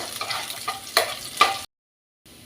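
Finely chopped garlic and cumin frying in hot oil, a close crackling sizzle with a few louder spattering pops, cut off abruptly by a short silence before resuming faintly.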